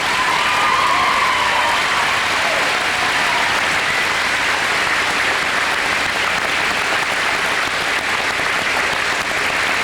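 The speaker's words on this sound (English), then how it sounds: "Folks, let's give them a round of applause," A full hall at a graduation ceremony breaks into sustained applause for the graduates' parents, loud and even throughout, with a faint cheer early on.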